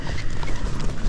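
Tennessee Walking Horse hooves clip-clopping along a hillside trail, a steady close, continuous run of soft hoof falls under low outdoor rumble.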